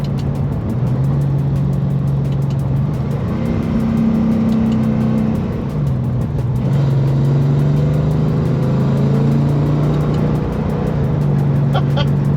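A 45-year-old Ford Mustang with a modern drivetrain and 6R80 automatic drones loudly and steadily, its pitch dipping and climbing as it revs through manual downshifts, with no voices.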